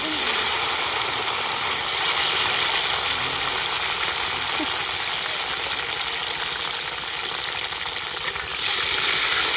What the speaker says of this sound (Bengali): গোটা গোটা আলু গেল এবার তেলে